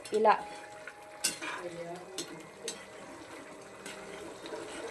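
Bitter gourd (kakarakaya) curry stirred in a pan, a few scraping and clinking strokes of a spoon against the metal with a brief sharp knock, close and fairly quiet in a kitchen.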